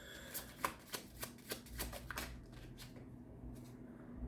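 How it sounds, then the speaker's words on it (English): A deck of smooth-finished tarot cards is shuffled, making a quiet run of crisp, rapid flicks that thin out and stop near the end, with no talking. "One thing I could say about this deck and the finish on these cards, they're very easy to shuffle."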